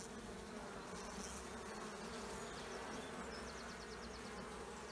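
Honey bees drone in an opened hive in early spring, a steady low buzz filling the whole stretch, quiet and close, with faint higher whines of individual bees passing near.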